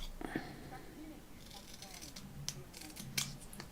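Scissors cut through paper for a Christmas tag book, several short close snips and crisp slicing strokes, with quiet background shuffling.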